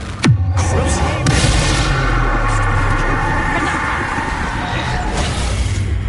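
A Confringo blasting spell explodes in Hogwarts Legacy on PS5, opening with a sharp, loud boom that settles into a long, heavy rumbling roar lasting several seconds.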